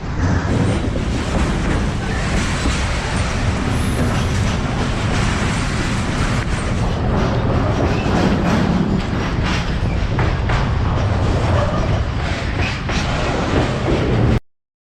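A train rumbles steadily with constant rolling noise and rail clatter, loud and close throughout, no talking.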